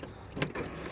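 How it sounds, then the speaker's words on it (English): Power door locks of a Mazda Protege5 actuate in a quick mechanical clunk with a faint rattle, a single brief near thunk against quiet surroundings. "The power locks do actually work."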